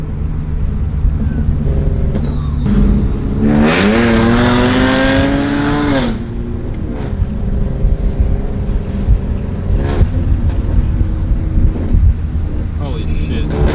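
Straight-piped Holden SV6 Commodore V6 exhaust revving outside, one loud sustained rev rising and falling for a couple of seconds over a steady idle, with people talking around it.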